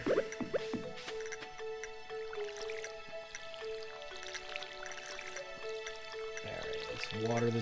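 Watering crops in the video game Stardew Valley produces soft splashy drips and liquid squishes, a few sharper bursts near the start and end, set over steady tonal game music.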